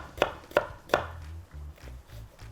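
A knife chops a red onion into small cubes on a board, three sharp, evenly spaced thuds close up, then softer, fainter cutting taps and low knocks trailing off.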